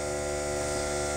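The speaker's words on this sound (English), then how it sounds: "That's an air compressor." An air compressor runs with a steady, loud, droning mechanical hum that holds unchanged throughout.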